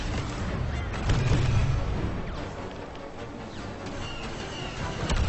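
Enemy blaster fire in a Star Wars Battlefront 2 story-mode battle, a dense rumbling barrage of shots and booms with no clear gaps, loud and continuous.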